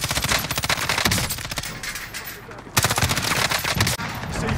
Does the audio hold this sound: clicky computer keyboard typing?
no